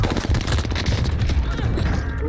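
Shotgun fire in a video game comes as a quick, dense flurry of loud blasts packed into a couple of seconds, close and booming, with no clear speech.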